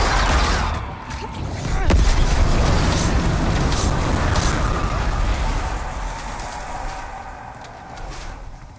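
A giant multi-armed boss in Demon's Souls hurls magic attacks that burst into loud, rumbling explosions, several overlapping blasts rolling through a dense, noisy battle din.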